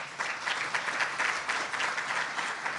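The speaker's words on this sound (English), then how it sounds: "give Linda a round of applause for the work." Short burst of audience applause at a legislative conference of school administrators, many hands clapping together in a steady, moderately loud patter with no talking over it.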